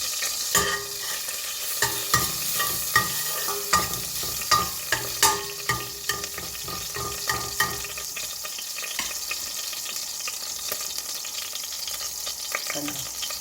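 Ground fennel and cumin dry-roasting in a pan for mutton haleem, with repeated scraping stirs and a light steady sizzle, close by, no voices.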